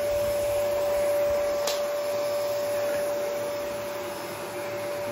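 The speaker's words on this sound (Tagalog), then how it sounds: "After work, you do the vacuum," A household vacuum cleaner runs steadily in a Dutch home, giving a loud continuous whine and rushing airflow without pause or talk.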